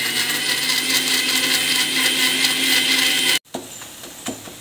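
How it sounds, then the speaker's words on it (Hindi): A loud, steady mechanical whir of a mixer grinder grinding chopped tomatoes runs for over three seconds, then cuts off abruptly, leaving faint clicks and rattles. "अब इसे हम मिक्सर में अच्छे से बारीक पीस लेंगे।"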